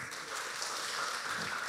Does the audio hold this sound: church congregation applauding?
yes